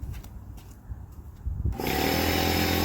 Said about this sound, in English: And then turn the compressor on.